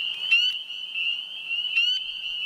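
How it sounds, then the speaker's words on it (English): Spring peepers call at night from a vernal pool in early spring, a continuous high shrill chorus with louder individual peeps standing out nearby, no talk. "you can find yourself surrounded by the calls of spring peepers"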